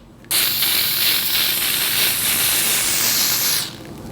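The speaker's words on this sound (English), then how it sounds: "I'm just gonna take a little bit of the lace bond and I'm just gonna spray it." Lace bond adhesive sprayed from an aerosol can onto a wig lace, one continuous close hissing burst lasting about three seconds before cutting off, with quiet room tone on either side.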